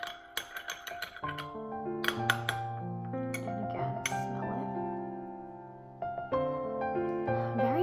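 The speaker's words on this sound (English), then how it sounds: "Give it a little stir." A spoon stirs a glass of Vietnamese coffee, giving bright ringing clinks against the glass. A few quick taps come first, then sustained resonant tones ring out and decay, close by and fairly quiet.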